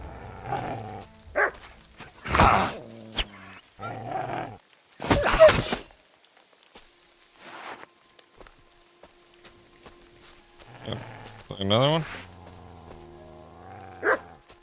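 The dog Mutt barks in several loud, separate bursts in a video game, mixed with hoof-like clopping footsteps and a brief spoken remark.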